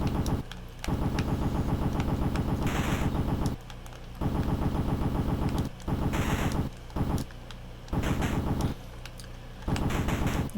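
Long bursts of rapid-fire gunfire from The Punisher NES game come in chiptune rattles, loud and continuous for a few seconds each, with short gaps between them and no talk.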